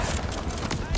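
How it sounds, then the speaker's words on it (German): Enemy gunfire in the Call of Duty Vanguard campaign on PS5: a dense, loud, continuous volley of overlapping shots crackling without pause. "die schießen sofort auf mich, wenn ich ein paar von ihnen getroffen habe"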